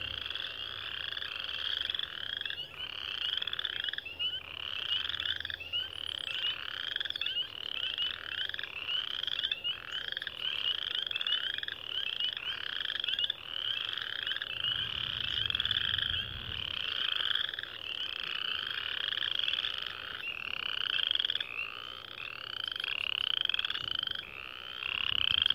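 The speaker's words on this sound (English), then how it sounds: "The comb-like sounds are the chorus frogs, and the quacks are the wood frogs, and the peeps are spring peepers." A dense frog chorus at a vernal pool: rapid comb-like trills of chorus frogs mixed with duck-like clucks of wood frogs and high peeps of spring peepers, continuous and layered throughout.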